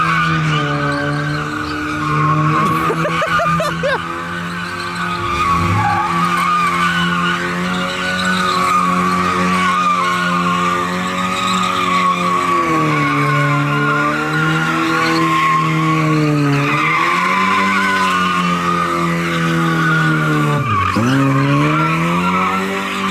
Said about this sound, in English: But where do I hear this burnout from?